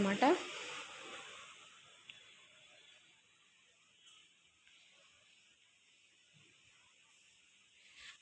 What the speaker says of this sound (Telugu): ఉల్లిపాయలు అయితే వేసుకొని కొంచెం సాల్ట్ వేసుకొని లైట్గా ఫ్రై చేసుకోవాలండి